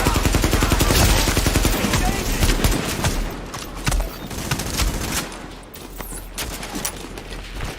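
Dense gunfire in the video game The Division, with sustained rapid bursts of automatic fire that ease off partway through, close and loud, mixed with speech and game audio.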